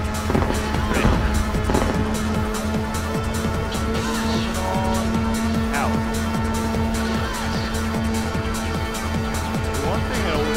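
Racing boat engine in Hydro Thunder Hurricane, a steady loud roar with a nitrous boost, droning continuously under excited talk and game music.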